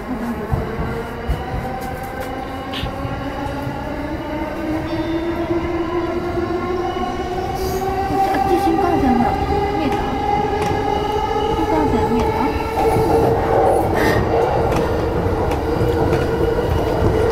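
A Tokyo tram runs steadily, its motor whine rising and falling in tone, with wheels rumbling and clattering over track; loud and continuous throughout.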